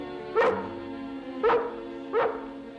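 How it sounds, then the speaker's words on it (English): A collie dog named Lassie barks three times at even intervals, each bark loud, close and clear, with short pauses between them and no voices. "I brought your dog back, Ranger."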